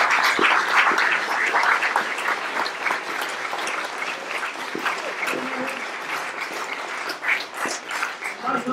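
Audience clapping at an anniversary celebration, a sustained round of applause from a sizeable crowd, close and lively, with a few sharper claps and faint voices mixed in.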